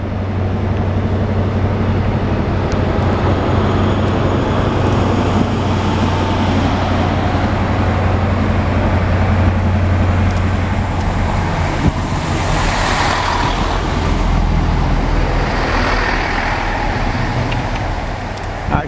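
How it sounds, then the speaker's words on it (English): At a station, a train arrives at the platform on its way to Oxford. A continuous low rumble and rolling roar build and fade over nearly twenty seconds, heard close by. "coming into platform 3, we've got a train either from Paddington or Ealing Broadway going to Oxford."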